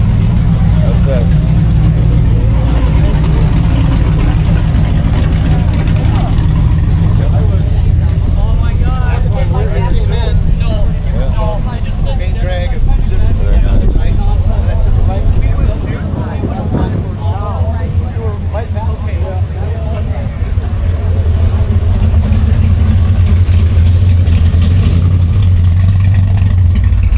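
A 1965 Chevy SS with a 327 V8 idles and rumbles steadily at a car show, low and loud throughout, with people talking over it.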